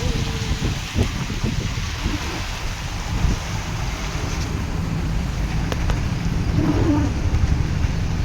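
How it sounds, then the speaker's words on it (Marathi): Steady rain falls in a dense, even hiss, with a low rumble of wind buffeting the microphone throughout. "पाऊस चाललेला आहे"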